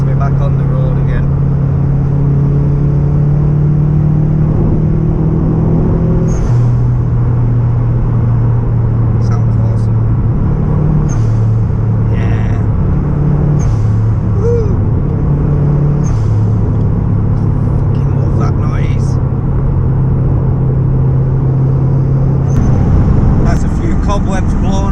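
A Subaru Impreza GC8 STI Type R with a new MAF sensor fitted pulls through the gears on the road, its engine rumble loud and close, pitch climbing and dropping at each shift, with brief talk over it.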